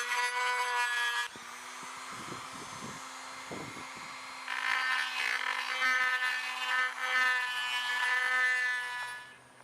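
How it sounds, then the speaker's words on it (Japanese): A rotary grinder whines steadily while porting a Honda CD50 cylinder head with the valves still fitted. The pitch shifts as the tool bears on the metal, with a quieter stretch between louder passes before it winds down. "スプリングコンプレッサーが手元にないので、つけっぱなしで削っています"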